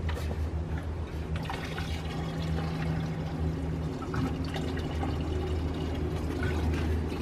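Kerosene pouring from a container into a diesel vehicle's tank, a steady trickling and gurgling stream heard close and continuous, with a low engine-like hum underneath.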